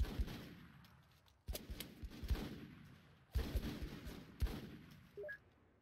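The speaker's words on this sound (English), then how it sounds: "We're under fire." Gunfire in the game Full Spectrum Warrior: Ten Hammers comes as bursts of rapid shots in three or four volleys, loud and close, with short gaps between them.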